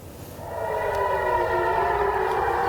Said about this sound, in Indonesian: Sirine seperti yang kita simak ini pemirsa terdengar meraung